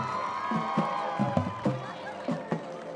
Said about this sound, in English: A big round of applause for Miss Jessica Victor